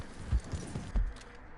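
A horse in Red Dead Redemption 2 clip-clops along at a slow walk, a few distinct hoof thuds landing close by at an uneven pace over a quiet background.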